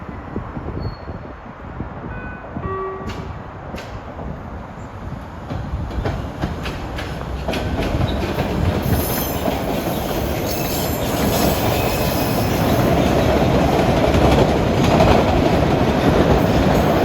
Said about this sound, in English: we got a Braintree bound Redline train about to depart